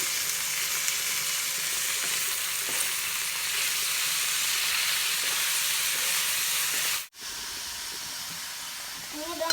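A Kerala home-style lunch dish bubbling in an open pot as it is stirred, giving a continuous loud hiss and sizzle that cuts out for a moment and then resumes.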